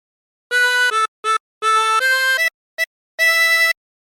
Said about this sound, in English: practice this until you end up with something that sounds like this